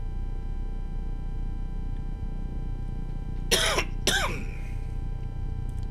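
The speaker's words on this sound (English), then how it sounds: "Apologies for the coughing too." Two short, harsh coughs close to the mic, about half a second apart, over a steady low background hum.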